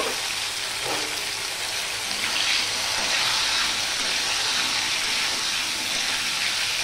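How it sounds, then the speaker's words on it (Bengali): Gathi kochu (taro root) pieces frying in hot oil, giving a continuous, even sizzling hiss that holds steady throughout with no talking. "সবার প্রথমে আমি গাঠি কচুগুলো ভেজে নেব"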